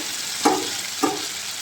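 Meat drops into hot oil in a pan with two quick splashes, followed by a steady, close sizzle of frying.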